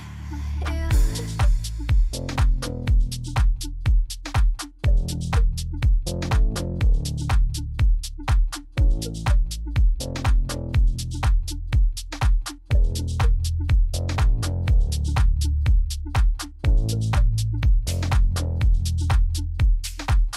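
A music track plays with a punchy, steady beat and a sung vocal line, loud and continuous throughout.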